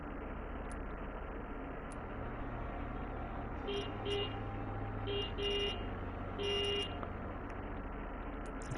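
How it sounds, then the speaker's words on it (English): Car horns honk in the background during a vampire video game session, several short toots clustered in the middle, faint and distant under a steady hiss. "I apologize for the honking in the background."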